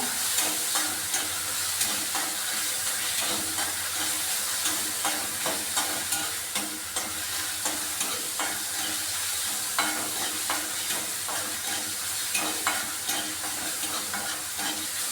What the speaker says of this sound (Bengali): আমি পেঁয়াজটা লাল লাল করে ভেজে নিচ্ছি